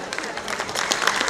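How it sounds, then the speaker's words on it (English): Audience at a school annual function gives the event team a continuous round of applause, a dense crowd of clapping hands that builds slightly over a second and a half. "So big applause to the entire team."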